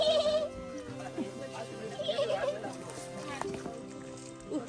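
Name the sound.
goats bleating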